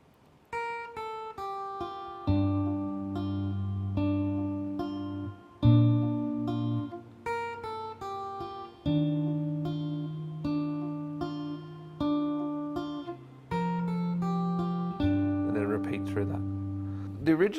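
Acoustic guitar slowly plays a riff, clear picked notes over held bass notes in a repeating pattern, close and alone with no talking.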